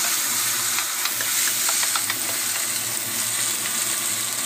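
Mushrooms are stir-fried in a pan, giving a steady close sizzle with scattered crackles and the scrape of stirring, continuous throughout with no talking.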